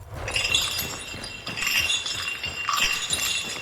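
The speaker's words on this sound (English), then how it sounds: "small noise traps spread throughout each compound, such as hanging chains or hooks" Metallic jangling and clinking in three bursts, bright and close, like hanging chains rattling as something brushes through them, in the video game Hunt: Showdown.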